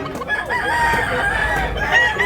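Nearby gamecocks at Tabunok, Talisay, Cebu give a strong, drawn-out crow that wavers in pitch, with soft clucking around it and no one speaking.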